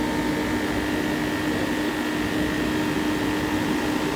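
A NAVAC vacuum pump evacuates a Hoshizaki ice machine refrigeration unit after a compressor change, giving a steady loud mechanical whir with a constant hum that runs unbroken throughout.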